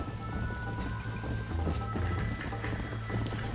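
Horse galloping in Red Dead Redemption, a fast continuous clip-clop of hooves at a steady rhythm, close and loud over a dense outdoor backdrop.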